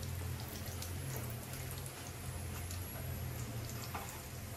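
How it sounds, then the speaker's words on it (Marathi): Onion dropped into hot oil for tempering in a clay pot, giving a faint, steady crackling sizzle with scattered pops throughout, quiet and without speech. "टाकते फोडणीत कांदो,"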